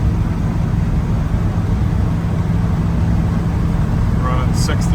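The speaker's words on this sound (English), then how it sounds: "We're out driving our 78 K10." A 1978 Chevrolet K10 truck rolls down the road with a steady, loud low engine and road drone throughout, while a voice talks over it.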